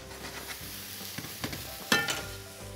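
Steamed vegetables with orange juice reduce in a pan, giving a soft, quiet sizzle broken by a few light stirring clinks and scrapes.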